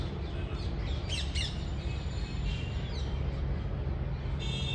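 Birds call in the grounds of a Delhi museum, where a peacock is feeding on bananas. Two or three brief, sharp squawks rise above a steady outdoor background, moderately near, with no one talking.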